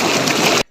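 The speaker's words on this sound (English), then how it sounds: "It's raining," Steady, dense hiss of rain falling on a surface, loud and unbroken for most of the moment before cutting off abruptly into near silence.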